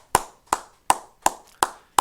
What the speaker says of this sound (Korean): 우리에게 은혜를 주신 하나님께 큰 박수로 영광 돌려드립시다.